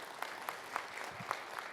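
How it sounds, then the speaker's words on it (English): A town hall audience claps briefly and faintly, scattered individual hand claps forming a short, thin round of applause heard from a distance. "so please give them a round of applause."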